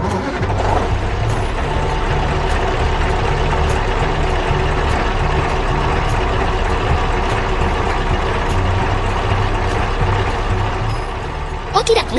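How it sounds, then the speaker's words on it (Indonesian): A truck drives fast, its heavy engine giving a loud, steady low rumble and road roar that holds unbroken for the whole stretch, with a faint clatter near the end. "Truknya mulai melaju kencang."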